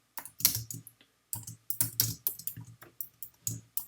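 Fingers type on a computer keyboard, a close, quiet series of irregular clicking keystrokes in short bursts with brief pauses.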